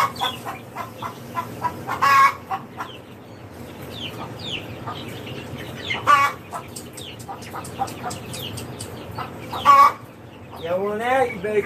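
Young chickens cluck and peep repeatedly, close by, while being moved outside. Busier bursts of calling break out at intervals, with a rising, wavering cry near the end. Faint background noise sits underneath throughout.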